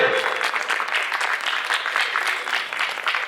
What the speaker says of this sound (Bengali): একটু হাততালি হোক জোরে